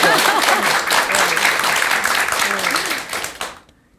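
Loud, full audience applause at a Korean talk event with a jazz singer, thick clapping with voices mixed in that cuts off abruptly near the end.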